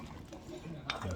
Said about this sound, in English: Once you get the oxtails in, you can give them a quick little stir.